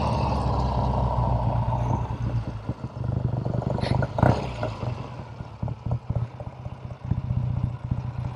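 A 1969 Triumph TR6R Tiger 650 motorcycle engine running close by, a loud, throbbing idle with rhythmic exhaust pulses and brief revs partway through.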